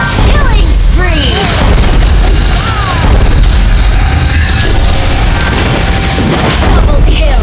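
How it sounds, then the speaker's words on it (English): A turret is destroyed in the mobile game Mobile Legends with a heavy booming explosion amid dense game effects, whooshes and an announcer-style voice, all loud and continuous. "Your team destroyed the turret!"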